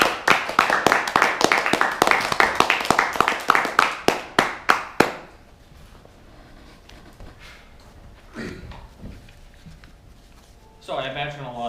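A student Toastmaster audience claps in a burst of crisp, rapid applause for about five seconds before it stops abruptly. Quiet room noise follows, then a speaker begins talking.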